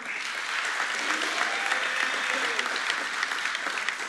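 Audience applause and cheering for a council member during a State of the City address, a dense steady wash of clapping with scattered voices running throughout.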